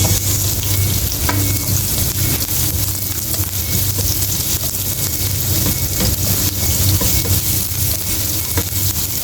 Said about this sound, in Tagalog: Mix ang ating sibuyas.